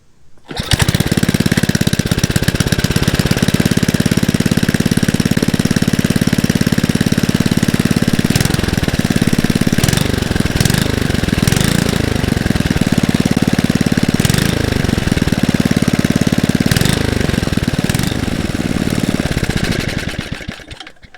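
A mini bike's small gasoline engine, started on choke, runs loud and close for about twenty seconds with a rough, rapid, clattering putter and occasional uneven surges before cutting off.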